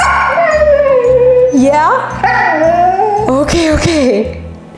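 A husky whines, yips and half-howls close by in a long, wavering run of vocal sounds over a pulsing background beat, while a person briefly speaks.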